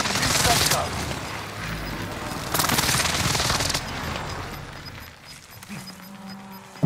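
A precision airstrike in a video game sets off bursts of heavy explosive rumble and crackling blasts, two loud waves that fade into quieter game ambience, ending with a sharp thump.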